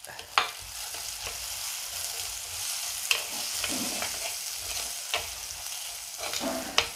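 Six chopped shallots and a small piece of onion sizzle steadily as they sauté in a pan for a Malabar-style mackerel curry, with a few sharp scrapes of stirring cutting through the continuous frying hiss.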